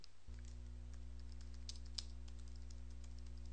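A computer keyboard being typed on to enter a password, a quiet run of soft key clicks over about three seconds against a steady low hum, with no talking.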